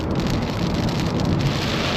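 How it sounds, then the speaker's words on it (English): Heavy pouring rain drumming on a car in Oman, a dense, steady, loud hiss with no pauses. "Pouring rain at that."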